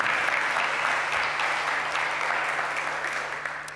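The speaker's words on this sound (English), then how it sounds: "Can you have a round of applause, please?" Sustained audience applause at a blockchain conference stage session fills the room, dense and steady throughout before fading slightly at the end.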